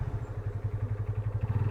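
A fully loaded motorcycle on a trip from Kolkata toward Kuldiha Forest in Odisha, its engine running with a steady, throbbing pulse up close and no talking.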